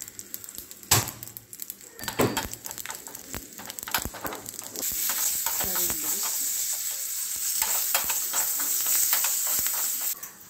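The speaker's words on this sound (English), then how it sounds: "Add this ghee tadka into this, onion also added, and mix it nicely." A ghee tadka with onion, for a dal-and-rice idli batter, starts with scattered clicks and knocks of stirring, then breaks into a steady, close sizzle for the second half.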